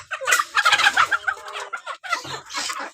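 Backyard chickens and a hen clucking and gobbling in quick bursts, fairly close, with a short pause midway before the calls resume, no talking.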